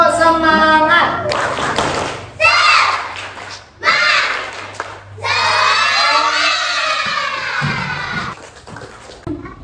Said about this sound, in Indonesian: Mari kita tepuk semangat dulu agar lebih semangat lagi ya. 1, 2, 3, tepuk semangat.